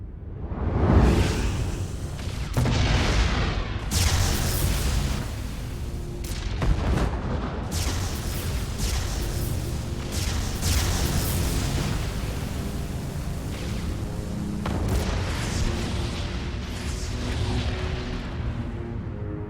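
Protoss warp ray fire and explosions from StarCraft 2 gameplay: a dense, loud, sustained barrage of booming blasts and rumbling impacts with whooshing bursts, continuous over the whole stretch.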